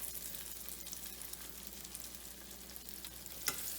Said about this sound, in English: I'm gonna go ahead and put the pork chops in, and I'm gonna do 3 of them.